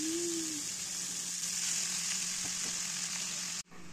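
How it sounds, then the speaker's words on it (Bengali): Chopped red amaranth greens hitting a pan of fried onions and green chilies, with a loud, steady sizzle that holds evenly before cutting off abruptly near the end, no voices. "এখন আমি এর ভিতরে দিয়ে দিব লাল শাক।"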